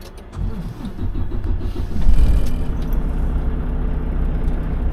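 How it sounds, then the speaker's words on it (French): A truck's engine restarts and settles into a steady, loud mid-range idle rumble with rhythmic low pulsing during a pre-trip safety check, close by with no talk. "Je repars le camion."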